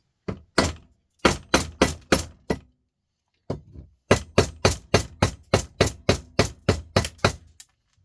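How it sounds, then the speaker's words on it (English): Sharp metallic hammer blows on an aluminium piece in two quick bursts, about six then a dozen strikes in steady rhythm, loud and close with a short pause between. "There's a piece in this I'm going to hit with a hammer and see if it'll come off"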